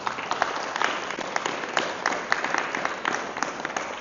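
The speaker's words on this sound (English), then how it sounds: "Let's have a round of applause for Sanatan Dharma." An audience at a spirituality talk in Cambridge breaks into steady, dense applause, many hands clapping continuously at moderate loudness throughout.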